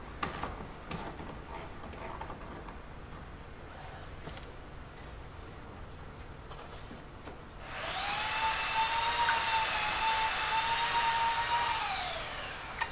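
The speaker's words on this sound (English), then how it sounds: "My neighbor's trimming a tree or something over there." Outdoor tree trimming next door, likely a chainsaw or power trimmer, starts partway through with a steady droning whine that holds for several seconds and then stops, heard at moderate distance over quiet background.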